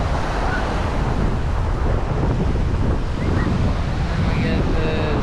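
Wind gusts roar across the microphone on a Florida shore in St Petersburg at sunset, a steady heavy buffeting with surf washing behind it and faint voices in the background.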